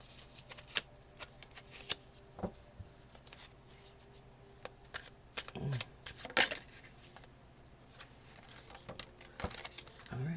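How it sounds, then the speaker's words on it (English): Tarot cards riffle and slap together during shuffling, with sharp clicks as some cards spill and drop onto a surface, scattered in irregular bursts over a quiet room. "Cards are just falling out."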